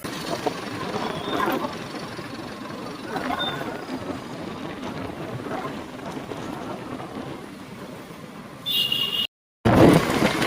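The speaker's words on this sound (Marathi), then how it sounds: "वंदे भारत ट्रेन" A Vande Bharat train rushes past close by in a loud, steady broadband roar that holds for about nine seconds, then cuts out briefly and resumes near the end.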